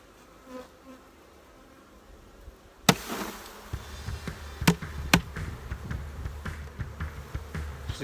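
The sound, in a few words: honey bees buzzing around hive during honey harvest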